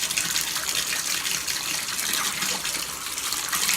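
Cold tap water runs steadily from a faucet while a paintbrush is rinsed under the stream, making a constant close gushing splash with no talk.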